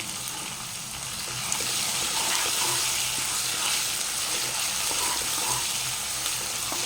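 Mint leaves frying in a pan with broiler chicken, a steady close sizzle that swells slightly after the first second and carries on with faint stirring.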